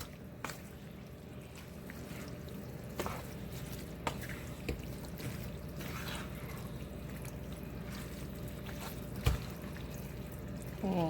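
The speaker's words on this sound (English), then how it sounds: "we're going to add it to the sauce mixture. And we're going to stir it up." Spaghetti being stirred into a sauce mixture for a baked spaghetti casserole, giving soft wet squishing and dripping sounds with a few sharper clinks, fairly quiet and steady throughout with no talking.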